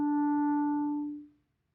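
A single sustained clarinet E with a clear, steady tone rings out alone, holding evenly for about a second before fading into silence.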